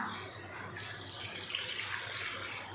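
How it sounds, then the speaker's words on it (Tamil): A steady stream of water pours and splashes continuously into a tamarind and tomato mixture for pepper rasam, close and fairly quiet, growing fuller after the first moment. "இப்போ இதில் தண்ணி சேர்த்துக்கலாம்."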